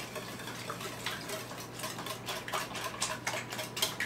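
A spoon stirs cinnamon into a croissant bread pudding mixture, giving soft, quiet, irregular clinks and taps against the bowl that grow a little busier toward the end.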